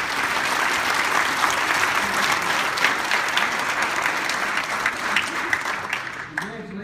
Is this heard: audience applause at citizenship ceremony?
yes